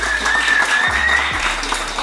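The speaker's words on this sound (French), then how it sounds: "Sous vos applaudissements, Ricole, l'hypnotiseur" Steady, close applause from a show audience welcoming a hypnotist onstage, a continuous wash of many hands clapping with no talk over it.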